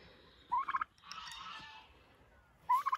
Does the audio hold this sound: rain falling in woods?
no